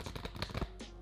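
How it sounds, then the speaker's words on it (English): Two interlaced halves of a playing card deck are squared together on a table, a quick close burst of soft ticking card clicks and a brief slide, under a second long. "now we need to square the two halves together"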